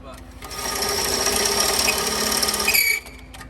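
A cordless power drill with a worn, sloppy keyless chuck whirs steadily for about two and a half seconds at close range, then cuts off abruptly.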